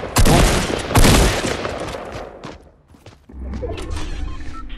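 Gunfire in the mobile version of Fortnite: Battle Royale, two loud close bursts of shots near the start followed by fading echoes, a brief lull, then quieter game ambience.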